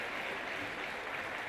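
Basketball arena crowd applauding a player's hustle late in a game, a steady, dense wash of clapping filling the space without a break.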